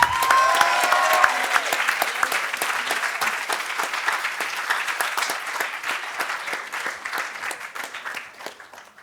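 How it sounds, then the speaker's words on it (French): A crowd applauds the winner of the Cicéron public-speaking prize at a high-school debate competition, a sustained wash of clapping that starts loud and slowly thins out, with a brief vocal sound at the start. "j'invite le jury à remettre le trophée du prix Cicéron à Alix, que l'on peut applaudir"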